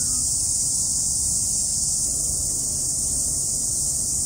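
Cicadas sing along the Queen Charlotte Track in the Marlborough Sounds, New Zealand, a steady high shrill buzz that holds constant without pause, fairly loud over a low background murmur.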